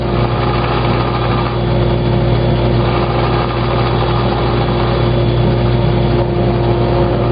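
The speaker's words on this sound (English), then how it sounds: "Now I'm going to bring it over to the router." A router shapes a titanium guitar-shaped key fob with a loud, continuous high-pitched whine, steady and unbroken throughout.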